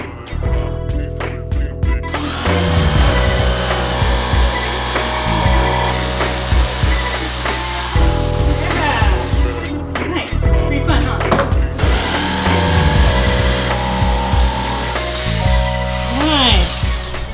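A jigsaw cuts out a wooden skateboard deck clamped to a workbench, a loud, steady motor whine that shifts in pitch as the blade works through the board, pausing briefly between sections.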